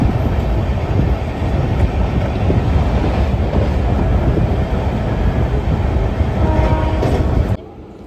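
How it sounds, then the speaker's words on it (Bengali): Interior rumble of the Gour Express, an LHB-coach train hauled by a P7 locomotive, running at speed with dense continuous wheel and track roar that cuts off abruptly near the end. "আমাদের ট্রেন প্রবেশ করবে বোলপুর শান্তিনিকেতন স্টেশনে"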